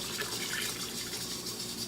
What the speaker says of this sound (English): Now let's add the 4 cups of cold water now that our sugar and our gelatin are all